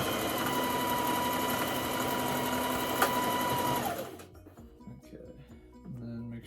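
Close, loud sewing machine stitching on a mask hood runs continuously, including a back stitch, then cuts off after about four seconds, followed by quiet rustling of fabric.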